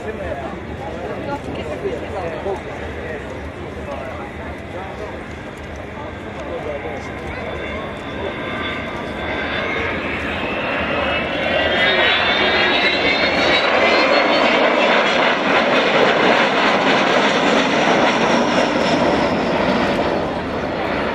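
An Avro Vulcan bomber makes a low overshoot along a runway, its engine roar building from a distant rumble to a loud, sweeping jet howl with rising tones, while a commentator talks over it.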